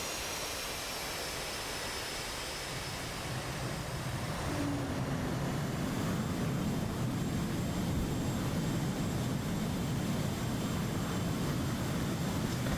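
F-18 jet in a flight game taxiing, a continuous broad engine roar that thickens and grows louder partway through, with no voices.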